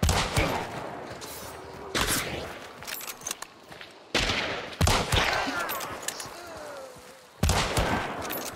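Gunfire from the video game Hunt: Showdown comes as several sharp, loud shots spread through the clip, separated by quieter stretches with softer movement noise in between.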